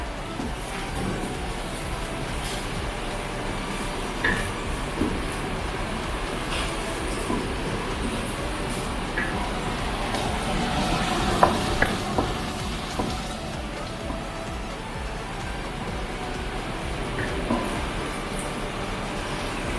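Garlic fries in oil for tempe orek, giving a continuous, fairly loud sizzle with occasional light stirring clinks and a busy background.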